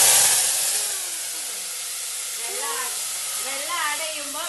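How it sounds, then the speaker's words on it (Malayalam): Water poured into a hot clay pot of mustard seed and curry leaf tempering gives a loud burst of steam and hiss that settles into a steady sizzle, with faint bubbling near the end. "കറി ലീഫ് ഇടേണ്ടി വെള്ളം ആഡ് ചെയ്യാം."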